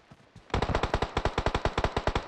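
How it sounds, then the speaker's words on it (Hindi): Rapid automatic gunfire in PUBG Mobile: after a couple of faint shots, a loud close burst of about a dozen evenly spaced cracks fires in quick steady rhythm until the end, with no talking over it. "गन चली भाई,"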